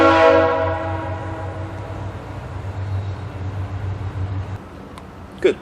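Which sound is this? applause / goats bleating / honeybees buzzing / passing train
passing train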